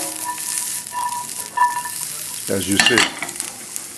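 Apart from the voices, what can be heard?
asparagus sizzling in a pan over very high flame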